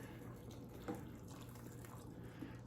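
A cornstarch and cold water slurry pours into pot roast gravy with a faint, soft liquid trickle and a couple of small splashes, heard quietly and alone.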